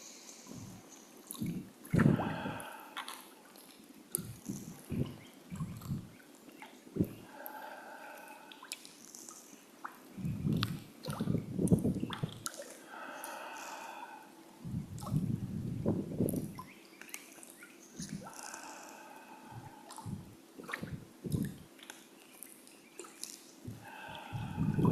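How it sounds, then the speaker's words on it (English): Slow canoe paddling on calm water, with soft, intermittent splashes of paddle strokes and water dripping from the blades, quiet and close, separated by near-silent pauses. "But you may hear the sound of my paddles, the sound of the water dripping."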